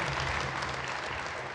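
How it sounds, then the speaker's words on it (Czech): Applause from a crowded audience at a Czech talk-show taping, honoring the Million Moments for Democracy rally at Prague's Letná; dense, steady clapping fills the whole brief moment without voices. "Já myslím, že ten potlesk je docela na místě"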